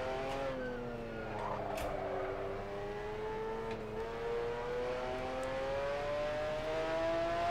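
A McLaren F1 GTR race car engine drones in the Assetto Corsa racing game at Suzuka. The loud, continuous tone is rich in harmonics, dips slightly, then climbs slowly in pitch as the car accelerates, with no talking.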